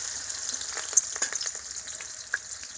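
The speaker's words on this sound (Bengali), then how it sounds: "তেল গরম হয়ে গেছে, এখন দিয়ে দিব পেঁয়াজ আর কাঁচামরিচ।" Onion and green chilies frying in hot oil on a village clay stove, a steady soft sizzle with light stirring clicks and occasional pops, close and moderately quiet.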